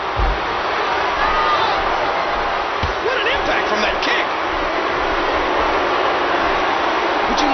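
A large crowd at a professional wrestling show roars in a steady, loud wash of cheering that never lets up, with a commentator talking over it.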